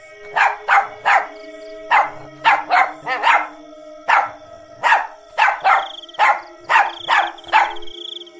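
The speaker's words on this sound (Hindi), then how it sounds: "वो जोर जोर से भौंकने लगता है" A dog barks loudly and repeatedly, sharp close barks in quick bursts of two or three with short pauses between, over a faint steady hum.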